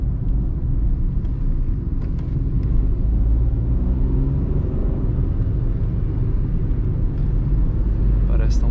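A 2020 Ford Ka Sedan SE 1.5 manual accelerates along a highway: a steady, loud low engine drone and road rumble that hold for the whole stretch, with a voice talking faintly underneath.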